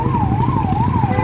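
Close, loud ambulance siren wailing in a steady rising and falling cycle over rumbling road traffic.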